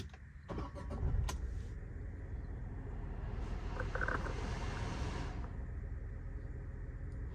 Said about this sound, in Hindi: तो ये साउंड थी जो इंजन करता है स्टार्ट करते वक्त